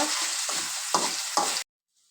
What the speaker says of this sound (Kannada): ಹಸಿ ವಾಸನೆ ಹೋಗೋವರೆಗೂ ಚೆನ್ನಾಗಿ ಈ ಥರ ಫ್ರೈ ಮಾಡ್ಕೊಬೇಕು ಎಣ್ಣೆಯಲ್ಲಿ ಹಸಿ ಶುಂಠಿ ಬೆಳ್ಳುಳ್ಳಿ ಪೇಸ್ಟು